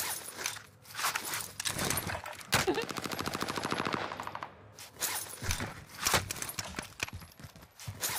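A long sustained burst of automatic fire in a video game shooter, fairly close, framed by shorter single shots and scattered impacts before and after.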